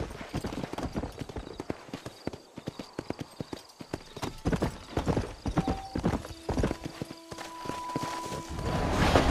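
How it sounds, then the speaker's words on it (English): A horse in the Red Dead Redemption video game walks with clip-clop hooves in a brisk, irregular rhythm, close and fairly loud, with a brief neigh and low game ambience; a sustained tone swells toward the end. "Giddy up."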